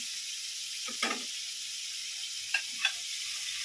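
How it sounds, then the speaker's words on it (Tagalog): Onion sizzles in a hot frying pan with a steady bright hiss, broken by a few short pops and stirring clicks, close and alone. "Ilagay na natin yung onion."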